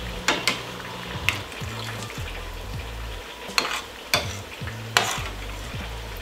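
Chicken frying in a pan for a homemade Chinese-buffet meal, a steady close sizzle with stirring and utensil clinks scraping through it at irregular moments, no talking.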